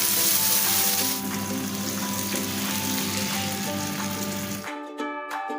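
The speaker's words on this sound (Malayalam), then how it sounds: "ഇനി ഇതിലേക്ക് നമ്മൾ അരച്ച് വെച്ചിരിക്കുന്ന ഒഴിച്ചു കൊടുക്കും" Ground coconut curry paste for a Kerala-style fish curry pours into a hot frying pan and sizzles loudly and steadily before cutting off abruptly near the end.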